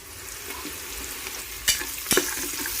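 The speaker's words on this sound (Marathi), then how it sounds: "आपण जरा आता मिरची आणि कढीपत्ता ॲड करूया" Green chillies and curry leaves hit a hot pan of browned onions for yakhni pulao, giving a steady close sizzle with two sharper crackling bursts near the end.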